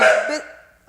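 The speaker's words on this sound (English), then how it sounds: "That's my dog barking." A single loud, close dog bark rings out and fades quickly, followed by a faint click.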